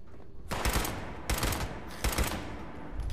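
Gunfire in the Fallout 76 video game comes as three loud, sharp bursts of rapid shots, each lasting about half a second with ringing decay, separated by brief pauses.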